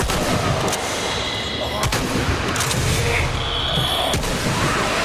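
Gunfire against zombies in Tomb Raider gameplay, several sharp shots cracking over a dense, noisy game background.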